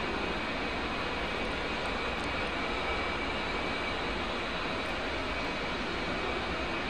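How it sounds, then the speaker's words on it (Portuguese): Steady broadband jet engine roar from the left engine of a combat aircraft in the DCS World flight simulator, continuous and loud throughout with a faint high tone on top. "Motor esquerdo, subindo."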